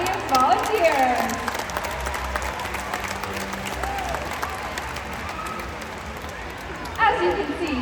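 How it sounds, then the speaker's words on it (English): Crowd at the SeaWorld San Antonio orca show applauding, with clapping and scattered cheers spread across the stands, a voice talking over part of it and a brief louder swell near the end. "Let's give a round of applause to our audience volunteers."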